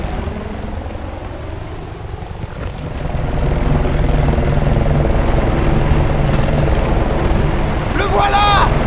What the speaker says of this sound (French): Cet hélico doit être là pour Aguirre.